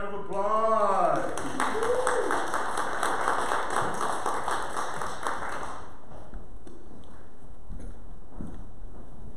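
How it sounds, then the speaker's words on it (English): A church congregation at a Sunday service breaks into a burst of applause lasting several seconds, with dense, even clapping that fills the room and then tapers off. Someone speaks briefly just before the clapping starts. "And a round of applause."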